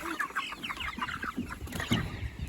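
Pastured chickens cluck and murmur near their feeders, with several overlapping birds giving short, close, busy calls throughout.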